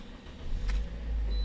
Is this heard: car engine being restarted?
yes